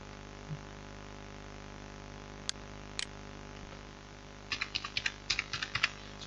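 Typing on a computer keyboard while entering data into an Excel spreadsheet: a few isolated clicks, then a quick run of close, light keystrokes at the end over quiet room hiss.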